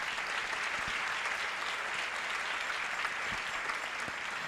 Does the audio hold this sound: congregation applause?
yes